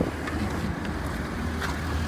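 A 2011 Ford F-550 stake truck's diesel engine idles at about 500 RPM, heard close to the exhaust as a steady low rumble with wind buffeting the microphone.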